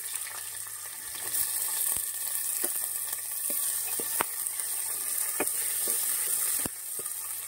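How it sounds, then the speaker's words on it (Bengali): Diced potatoes frying in oil in a pressure cooker for a banana-flower curry, a steady close sizzle with occasional sharp pops and crackles throughout, no talking. "আলুটা একটু ভেজে নেবো"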